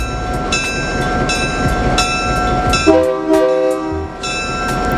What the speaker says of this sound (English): we take a trip behind Southern 8202 on the museum train ride